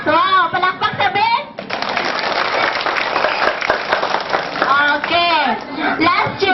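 Children and adults burst into loud, sustained applause at a children's Christmas party in Molocaboc, steady clapping for several seconds, framed by voices talking before and after.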